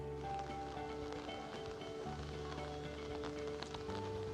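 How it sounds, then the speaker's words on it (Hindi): Heavy rain pours steadily in Delhi, a constant dense hiss filling the background with no clear pauses, while a tonal hum runs underneath. "आप देख सकते हैं मेरे पीछे झमाझम बारिश हो रही है।"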